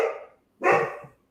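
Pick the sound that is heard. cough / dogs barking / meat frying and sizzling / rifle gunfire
dogs barking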